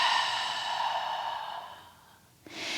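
A long, deep exhale through the nose during yoga breathing practice, close and steady as it slowly fades out, followed by the start of a fresh inhale.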